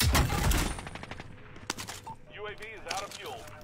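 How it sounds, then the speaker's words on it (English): Rapid automatic gunfire in a Call of Duty online match, a loud burst of shots up front followed by scattered single cracks, with players talking over the action. "warning shots"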